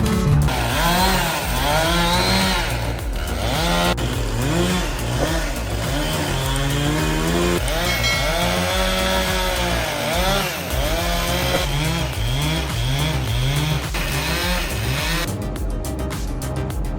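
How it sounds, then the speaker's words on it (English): A large modern saw runs continuously and loudly through wood in a wood workshop, with a steady roaring motor and repeated rising and falling cutting tones for the whole stretch. "A modern saw is operating powerfully in the wood workshop"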